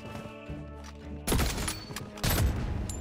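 Sniper and other gunfire in the shooter game Blood Strike, with two loud, sharp bursts of shots about a second apart following a quieter stretch of game ambience.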